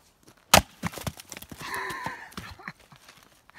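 A sharp axe splits wood outdoors with one crisp, loud crack, followed by lighter knocks and rustling as pieces fall.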